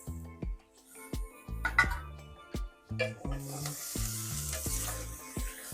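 Chopped tomatoes sizzle as they are stirred into fried onions in a pan for tomato rice, with frying hiss and stirring scrapes under a plucked, melodic background tune.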